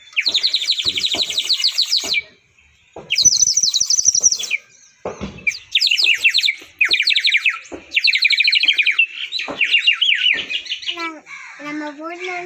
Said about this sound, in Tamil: ஒரு சிட்டுக்குருவி விசில் இது பேர்.